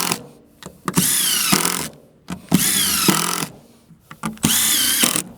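A power saw rips a long wooden board about an inch wide during tiny house deck building, three loud sustained cutting passes with whining blade tone, separated by brief pauses and small knocks.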